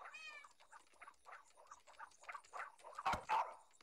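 A game cat in Nintendogs + Cats meows in short harmonic calls, one near the start and a brighter pair toward the end, over soft background game sounds and music.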